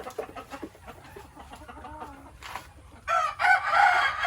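Chickens clucking in a farmyard, with a rooster breaking into a loud, drawn-out crow near the end; the clucks are soft and scattered before the crow rises clearly above them.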